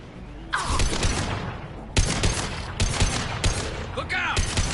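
Rifle gunfire from Mass Effect 2 comes in loud, sharp bursts of rapid shots separated by short gaps, with brief voices and game effects between the volleys.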